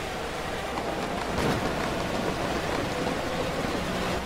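Rain falls steadily during a sports car race at Watkins Glen in a racing video game, a broad constant hiss with a faint engine rumble underneath.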